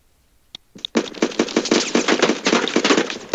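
Rapid automatic gunfire in a video game, a loud close burst of fast repeated shots after a couple of isolated single shots, sustained for over two seconds with no talking.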